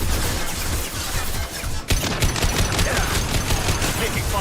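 Sustained gunfire from a Mass Effect 2 battle, dense rapid shots with a brief break partway through, then the barrage resumes loud and close with bursts continuing throughout.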